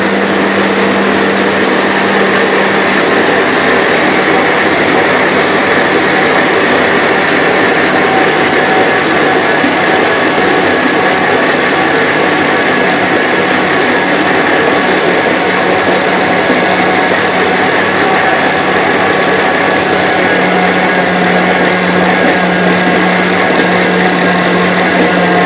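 A mixer runs at maximum speed, kneading brioche dough. It gives a loud, continuous, high-pitched motor drone that holds steady from start to finish, with no speech.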